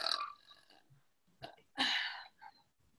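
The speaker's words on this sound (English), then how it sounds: "I'm going to give you one more because I burped right when you were going" Girl burping loudly during a friendly burping contest between two girls, a couple of separate burps with a long raspy one near the middle, close and clear with no talking.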